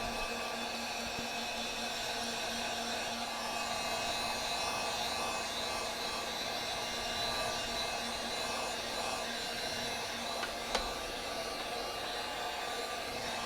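A heat tool blows steadily and continuously to dry all-purpose inks on a DIY photo frame, a constant whooshing hum with a faint tap near the end.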